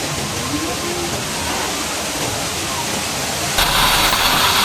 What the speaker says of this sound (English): it's a waterfall behind me which is lovely